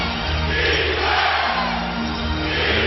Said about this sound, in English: And the crowd fired up again.